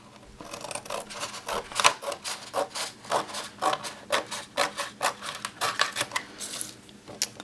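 Laminated cash envelopes are cut apart with scissors in a fast, close run of rhythmic crunching snips, roughly two per second, rasping and plasticky, with no talk.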